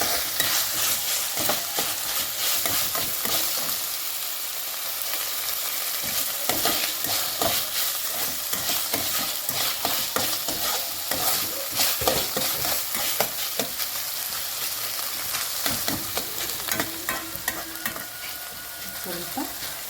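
Tomatoes sizzle and fry in a pan while being stirred, a steady close crackle broken by repeated scraping strokes of the spoon, with no talking.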